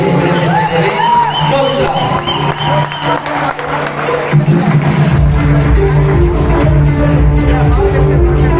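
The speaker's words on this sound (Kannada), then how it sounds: "ಜೋರಾದ ಚಪ್ಪಾಳೆಯಲ್ಲಿ ಅವರನ್ನ ಅಭಿನಂದಿಸಬೇಕಾಗಿ" An audience applauds at a college day function as prize winners are announced, a dense, loud clapping that swells and continues through the whole stretch, with some cheering mixed in.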